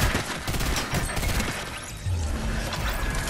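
Dense Fortnite gunfire rattles through the whole stretch, a busy overlapping barrage of shots from a shootout with no pause, loud and close.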